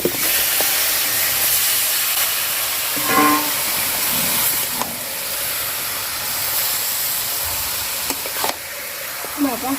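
Chicken skin and legs sizzle and hiss steadily in fried spice paste, a dense crackling frying sound with occasional clinks and scrapes of stirring and a few faint voices.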